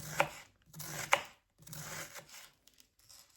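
Knife chopping potatoes on a board, a few sharp cuts with soft scraping between them, close by and fairly quiet.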